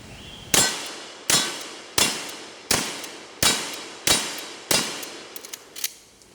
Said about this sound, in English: how to run this gun as fast and as accurately as possible